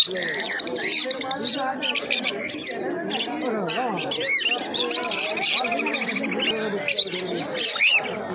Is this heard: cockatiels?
yes